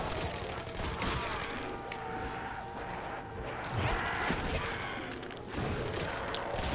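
Dense, rapid gunfire rattles nonstop in Call of Duty: World at War, loud and close, with bursts of shots piling over one another and a faint voice now and then underneath.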